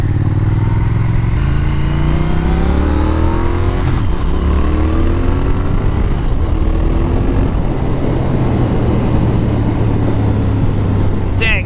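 A Triumph Speed Twin motorcycle engine pulls hard on the road, its note climbing through several gear changes in rising sweeps over heavy, constant wind rush, loud and close to the rider.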